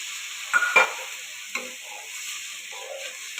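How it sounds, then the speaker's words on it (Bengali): Water added to coriander frying in hot oil crackles and hisses close up, with a couple of sharp pops early on before the sizzle settles into softer, scattered spatters. "এর মধ্যে এবারে আমি জল মিশিয়ে দিলাম।"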